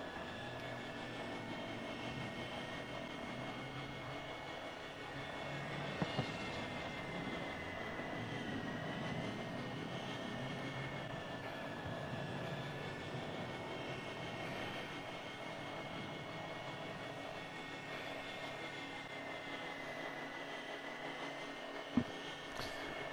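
A reconnaissance drone flies in the video game Call of Duty Warzone 2.0, a steady mechanical hum with sustained whining tones that holds constant, with a couple of faint distant pops.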